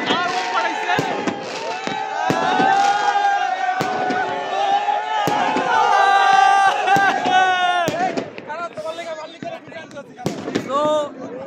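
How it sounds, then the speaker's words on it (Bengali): Fireworks bursting over Budapest on New Year's Eve, a dense run of pops and crackles close by, mixed with crowd noise and voices shouting throughout. "So crazy fireworks are going on my behind, as you guys can see."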